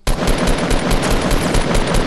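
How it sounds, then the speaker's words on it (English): A minigun fires in a video game, a loud, sustained rapid burst of gunfire that starts abruptly and keeps hammering evenly without pause. "He's minigunning us."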